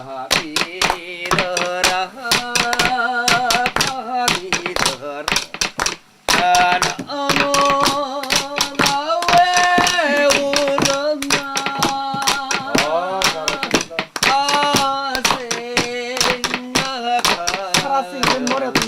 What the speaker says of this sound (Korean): 박수 쳐야지, 박수 쳐.